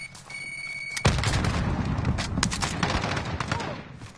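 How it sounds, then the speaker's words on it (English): A grenade goes off in a first-person shooter, a sudden loud boom that kicks in hard and is followed by a long, dense rumble with scattered crackles and gunfire. A quiet tone and a voice sit behind it at the start. "Grenade out!"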